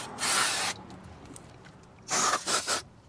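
Brake cleaner sprayed onto the brake discs of a Vauxhall Vivaro van: one long hissing burst, a pause, then three shorter close spray bursts in quick succession.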